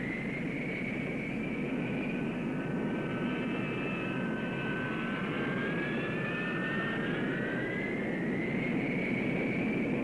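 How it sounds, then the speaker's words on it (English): An F-4B Phantom II fighter jet of a Marine fighter attack squadron taxis out for takeoff, its engines giving a steady, loud whine with shifting high tones over a broad rumble, sustained throughout with no talk. "the F-4B of Marine Fighter Attack Squadron 115 taxis out for takeoff"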